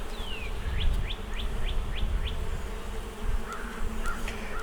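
Honey bees buzz in a low, steady hum during an open beehive inspection, with a run of short bird chirps sounding over the swarm.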